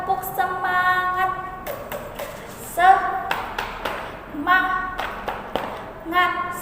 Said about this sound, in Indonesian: kita harus tepuk semangat terlebih dahulu